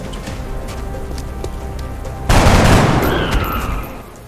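Soldiers opening fire in XCOM: Enemy Unknown: after a stretch of quiet ambience, a sudden loud burst of gunfire erupts, with crackling reports and a rumbling tail that gradually fades.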